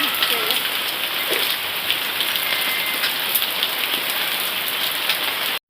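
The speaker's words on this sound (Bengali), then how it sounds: "তুমুল বৃষ্টি হচ্ছে" Heavy rain pours steadily, a dense, loud hiss of drops on surfaces that continues without a break for the whole stretch before cutting off abruptly at the end.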